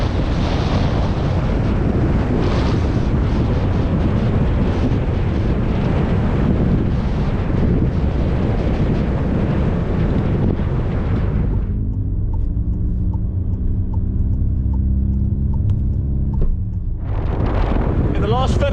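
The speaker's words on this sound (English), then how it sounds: "he's battling a very heavy crosswind, very heavy headwind" Heavy crosswind and headwind buffet a rider during an ultra-distance cycling race on the NC500 road route, a loud continuous roar of wind noise that drops away briefly near the end before returning.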